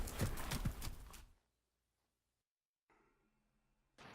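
Horse hooves in the Western video game GUN: a quick burst of rapid clopping for about a second, then near silence broken only by a faint low hum later on.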